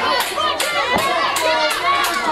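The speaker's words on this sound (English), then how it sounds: "Crowd not appreciative of Mike McCarthy." Wrestling crowd reacting with loud, sustained vocal noise, a dense wall of shouting voices with repeated swells, as a Russian leg sweep lands during an independent ring match.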